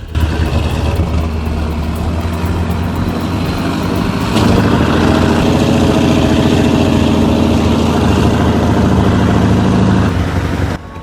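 Heavy V8 diesel engine of a 500 horsepower Mack Ultraliner truck hauling a 100-ton oversize load, a steady loud low rumble running throughout with a slight rise in intensity midway, no talk.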